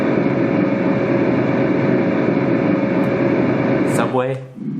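Steady, loud rumbling hum from a white noise machine set to a bus or train ride sound, continuous throughout with a brief dip near the end.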